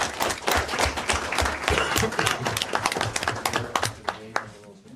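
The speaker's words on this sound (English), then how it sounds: "And a round of applause." An audience at a council meeting applauds, a dense, loud clatter of many hands clapping that continues steadily with some voices mixed in.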